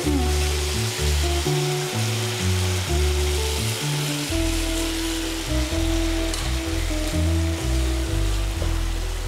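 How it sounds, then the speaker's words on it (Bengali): Eggplant pieces frying in a pan give a steady, dense sizzle with crackling throughout, heard close and with no speech over it. "এবার বেগুনগুলো একটু ভাজা ভাজা হবে।"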